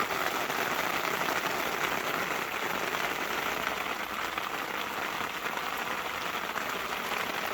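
Hail coming down hard outside, a dense, steady patter drumming on surfaces without a break, loud and close, with no voices.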